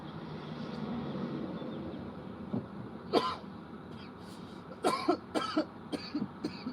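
A few short, harsh coughs come in a quick cluster over a steady low background rumble, fairly close and moderately loud.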